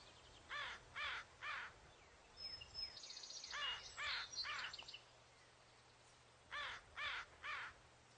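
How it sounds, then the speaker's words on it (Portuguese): American crows cawing together, harsh calls coming in quick bursts of three, with a looser overlapping cluster in the middle, heard outdoors at moderate distance with no other voices. "Mas esses gritos não são algo ao acaso. São os corvos se comunicando."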